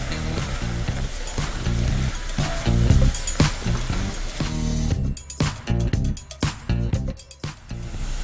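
Shredded coconut stirred with melting sugar in a pan gives a steady sizzle and scraping. After the midpoint it turns into choppier, distinct stirring strokes close by, with no talking.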